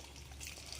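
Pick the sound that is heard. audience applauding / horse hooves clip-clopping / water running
water running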